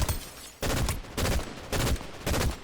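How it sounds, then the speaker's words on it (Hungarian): Bursts of gunfire in the video game Fortnite, four loud dense volleys in quick succession with short pauses between, close and dominant with no talking. "Valami lövöldözés van"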